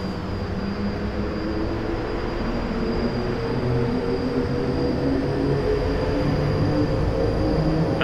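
A Class 390 Pendolino electric train runs in Train Simulator 2018, giving a continuous, loud, even rumble with sustained motor hum and tonal whine, alone and without any voices.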